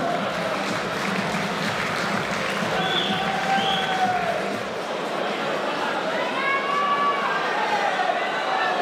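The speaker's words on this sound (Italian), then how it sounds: "vorrei ancora un applauso per il Matador Eder Favoreto e per Alessandro Dottig Micheli" Applause fills a boxing arena at the close of a match between Eder Barreto and Alessandro Micheli, a steady dense clatter of clapping from the crowd with crowd noise mixed in, running unbroken throughout.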